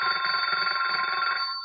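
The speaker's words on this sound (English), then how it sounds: "we can make the phone ring only 3 times and stop" A telephone rings as a theatre sound cue: a steady electronic bell tone runs continuously and loud, then cuts off near the end, with no voices.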